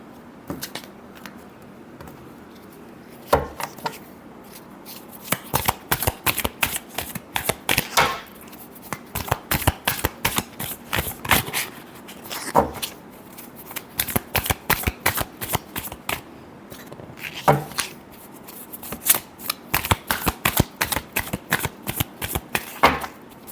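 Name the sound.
shuffling tarot cards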